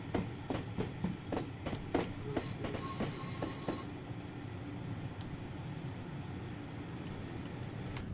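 A Class 411 electric train on a Southeastern network route in Train Sim Classic rolls along with a run of sharp wheel clicks over rail joints and a brief squeal, then settles into a steady low rumble.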